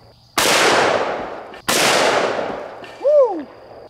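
Two loud booming shots from a Taurus Raging Hunter .44 Magnum revolver aimed at a can of shaving cream outdoors, each with a long rolling echo, followed by a brief voice.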